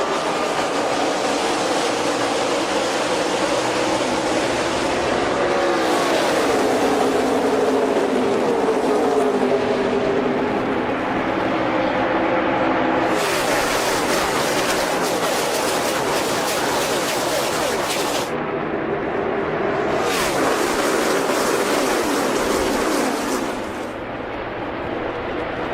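A 43-car NASCAR field roars away at the green flag in Kansas, a dense, loud, sustained wall of stock-car engines blending into a continuous thunder that swells and shifts as cars pass.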